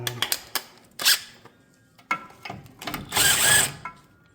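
A wrench loosens bolts on a 6L80E transmission, giving irregular close metallic ratcheting clicks and clanks in short bursts, with one longer grinding ratchet run near the end.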